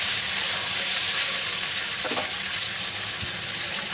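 Vegetables frying in a pan with a fish head after the lid comes off, a steady loud sizzle filling the whole stretch with a couple of brief stirring knocks, no talk.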